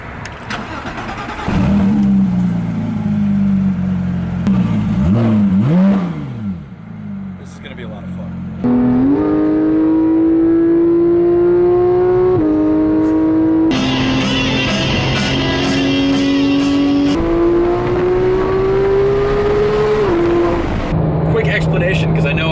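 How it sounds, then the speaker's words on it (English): Sports car fitted with a full GMG Racing exhaust and racing headers, engine firing up and revving repeatedly in loud, rising sustained pulls with brief drops between, close by and dominant. "It's got a full GMG Racing exhaust and racing headers as well."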